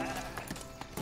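Sheep bleat in the medieval city-building game Foundation, several short faint calls over a quiet ambient background with music.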